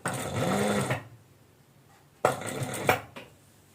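A sewing machine runs in two short bursts while stitching the side seams of a designer maxi dress, with a quiet pause between them, close and fairly loud with no talking.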